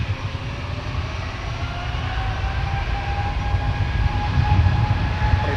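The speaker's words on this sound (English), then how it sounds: "caution, jet blast from the 777 departing" A Boeing 777 jet departs at Minneapolis–Saint Paul airport, its engines a loud, continuous roar with a deep rumble that builds slightly toward the end, and no voices over it.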